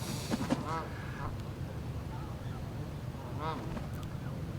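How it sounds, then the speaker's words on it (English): Geese honking in a few short nasal bursts, outdoors during a gathering at the HeartFire Festival, set against steady low background rumble and faint voices. "The geese are unruly."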